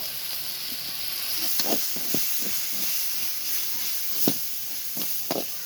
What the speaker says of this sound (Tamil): செம்மையாக வதங்கிக்கிட்டு இருக்கு நல்லா மசாலா கிரேவி பக்குவத்தில் வந்து